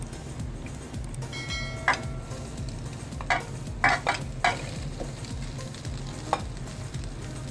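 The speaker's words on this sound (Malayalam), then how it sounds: "ഇനി നമുക്ക് സേമിയ ഇട്ട് കൊടുക്കാം" Vermicelli (semiya) tipped into hot grated coconut in a pan and stirred for semiya upma, giving a steady low scraping stir with a soft sizzle and a few sharp clinks of the spoon against the pan.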